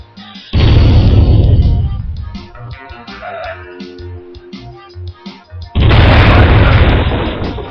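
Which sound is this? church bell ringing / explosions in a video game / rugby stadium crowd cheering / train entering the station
explosions in a video game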